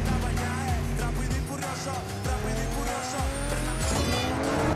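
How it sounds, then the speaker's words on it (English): Race cars in a Fast X action scene roar past at high revs with gear shifts, screeching tires and skids over a loud, dense mix that stays intense throughout. "Roaring engines, screeching tires, and high-octane thrills return in Fast X Part 2"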